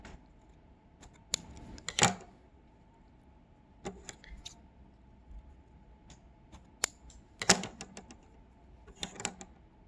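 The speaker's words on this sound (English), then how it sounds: "Now trim the excess." Scissors snip excess cord from a handmade knotted bracelet in a series of sharp, close clicks, some single and some in quick clusters, separated by quiet pauses.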